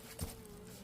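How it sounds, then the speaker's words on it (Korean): Eastern honeybees hum at a hive during an inspection, giving a brief, faint buzzing drone with one soft bump, and no voices. "이것도 동양종 꿀벌입니다"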